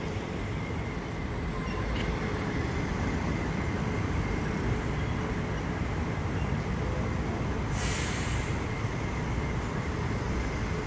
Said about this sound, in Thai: นี่มีรถไฟฟ้ามา1ขบวนนะครับ